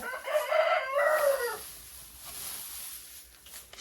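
Hens and turkeys in a farmyard give a short burst of calls up close, then quieter faint clucks and rustling follow.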